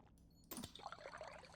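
Water poured to top up a supply in the space-survival game Stationeers: after near silence, a sudden splashing burst of liquid that settles into a steady trickle lasting about a second, with no talking.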